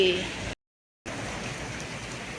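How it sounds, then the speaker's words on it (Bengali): Steady, hissing rain falls in Vrindavan throughout, broken by a short gap of silence near the start. "ফাইনালি এতদিন পর বৃন্দাবনে হচ্ছে বৃষ্টি"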